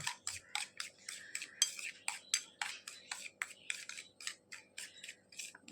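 Homemade tooth-whitening paste with lemon juice being mixed in a small bowl with a spoon, giving a quick series of about twenty sharp, close scraping clinks in an uneven rhythm. Nobody speaks.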